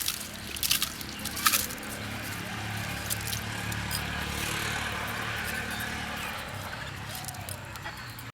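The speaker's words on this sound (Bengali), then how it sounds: "চালটা খুব ভালো করে পানি ঝরিয়ে নিতে হবে" Water drains from washed parboiled rice being prepared for shahi zarda, giving a steady, soft trickle after a few brief clatters at the start.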